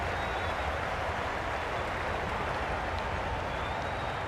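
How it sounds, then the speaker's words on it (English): A packed cricket stadium crowd roars during a Pakistan vs India T20 semi-final, a loud, unbroken wash of cheering and noise that holds steady from start to finish with no distinct voices standing out. "Will you listen to the crowd?"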